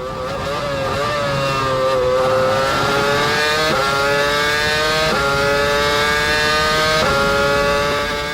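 A Formula 1 race car engine holds a loud, high, steady whine at sustained speed while chasing a Ferrari. The pitch steps up through several gear changes.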